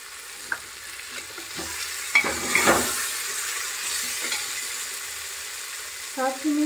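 Vegetable pulao frying in a pan and being stirred, a steady sizzle with scraping spoon strokes and a few clinks, fairly close, with no talking.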